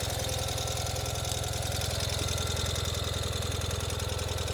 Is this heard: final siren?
no